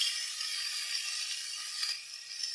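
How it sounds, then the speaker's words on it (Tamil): Tomatoes hit hot sesame oil for a country chicken masala, setting off a continuous bright sizzle that holds steady throughout. "தக்காளி ஆட் பண்ணிக்கிறேன்."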